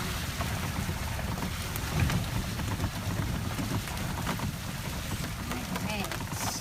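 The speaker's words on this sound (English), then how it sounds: "This is the most rain we've had in a long time." Heavy rain falling steadily and forming puddles outdoors, a dense continuous hiss and patter close to the microphone with some wind noise, while people talk over it.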